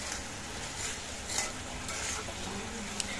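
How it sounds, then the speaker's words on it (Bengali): Prawns cooked with spices and bottle gourd are stirred in a pan, a steady close sizzle with scraping of the spatula and a few sharp metallic clinks, no voices. "এই জন্য আমি মশলা দিয়ে লাউয়ের সঙ্গে চিংড়িটা এভাবে একটু ভুনে নিচ্ছি।"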